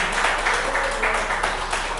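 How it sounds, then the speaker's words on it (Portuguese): A church congregation claps together in worship, a steady wash of applause filling the room for a couple of seconds without a break. "Aplauda o Senhor."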